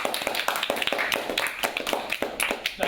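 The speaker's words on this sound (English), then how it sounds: "one more round of applause" An audience applauds Holly, a guest speaking about art school, with a dense, steady patter of many hands clapping at moderate volume that continues through the whole moment.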